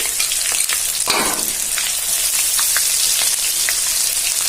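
Loud, continuous sizzling of freshly ground ginger garlic paste frying in hot oil, crackling and spitting steadily, with a brief burst of stirring near the start.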